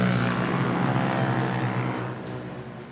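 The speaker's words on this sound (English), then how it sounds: "we have flight 5J4949 off to Melbourne. An A330-900 Neo" An Airbus A330-900 Neo airliner on flight 5J4949 to Melbourne at Manila Airport, a loud steady jet engine roar close by that fades slightly over a few seconds, with no talk.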